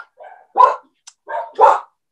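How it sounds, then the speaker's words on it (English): Dogs bark indoors in two quick pairs of loud, close woofs, each pair a short lead-in yap followed by a fuller bark, with a brief gap between. "goodness, dogs."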